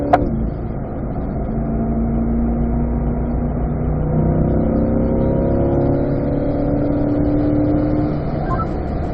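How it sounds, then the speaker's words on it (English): Chevrolet Corvette on a race track, its engine loud and close as it accelerates hard in a continuous rising roar with a gear change partway through. "as we accelerate out here, we're going to upshift to fourth gear"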